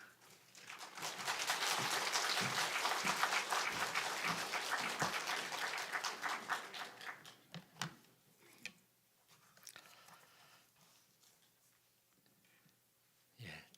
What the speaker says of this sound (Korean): 나오실 때 큰 박수로 맞이하시면 좋겠습니다.